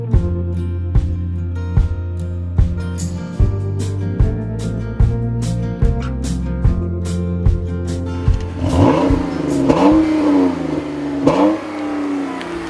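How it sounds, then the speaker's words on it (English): A 2015 Chrysler 200's engine revs repeatedly in rhythmic, throaty surges, then climbs in pitch as it accelerates, loud and close. "I wasn't expecting this engine to sound so throaty, but it actually does sound pretty good."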